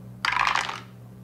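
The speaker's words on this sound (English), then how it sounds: "you will roll 2 6-sided dice" Two six-sided dice are rolled during a board game, giving a single brief clatter that lasts about half a second and is heard alone against a low steady hum.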